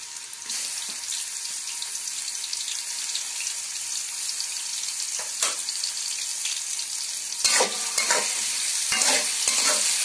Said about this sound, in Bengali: আমি প্রথমে আলুটা ভেজে নিব।